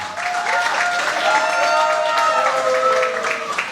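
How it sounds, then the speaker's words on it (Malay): An audience at a celebrity cooking competition contestant announcement breaks into loud, sustained applause for two contestants, a dense crowd of clapping with some tonal voices or music over it. "Berikan tepukan gemuruh untuk Michael Ang dan Sharifah Sahora"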